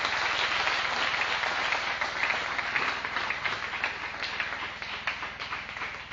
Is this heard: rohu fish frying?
no